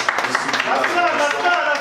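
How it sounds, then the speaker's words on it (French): Audience clapping after a bass and groove ballad at a live workshop showcase, a dense, steady patter of hands sustained throughout at moderate level with no one speaking over it. "Je vous souhaite que nous applaudissions"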